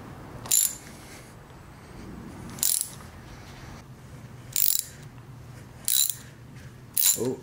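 Hand ratchet working on a bolt of a BMW S52 turbo manifold, five short, sharp bursts of clicking spaced a second or two apart over a quiet background hiss, close and loud.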